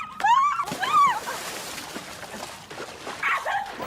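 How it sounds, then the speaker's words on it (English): A dog in a cartoon scene lets out two high, wavering yelps or whines close up, followed by fainter scuffling and a couple of softer yips. "What the hell is up with this dog?"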